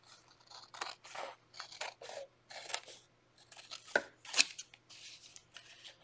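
Scissors cutting out a paper shape through drawn stripes, a quick series of close, crisp snips and rustles in uneven bursts, with no talking.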